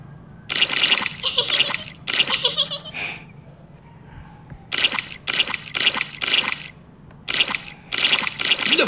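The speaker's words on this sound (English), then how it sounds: "Look at all that splashing." Repeated splashing in muddy puddles in a Peppa Pig cartoon, a series of loud, close, watery splash bursts in quick clusters separated by brief pauses, mixed with childlike giggling and no talking.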